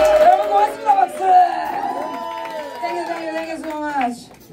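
A crowd at a summer concert cheers and whoops loudly after the band thanks them, with overlapping shouting voices in a continuous roar of several seconds.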